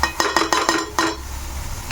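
A spoon stirs meal maker keema curry in a pan, giving five or six quick, bright scrapes and clinks in a steady rhythm before fading to a soft background hiss.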